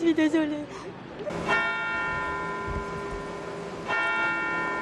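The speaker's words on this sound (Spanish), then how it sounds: "Hoy sus campanas doblan" Church bells of Notre-Dame Basilica in Nice toll in mourning with long ringing tones that hang in the air, a second strike following a few seconds later, a voice speaking briefly at the start.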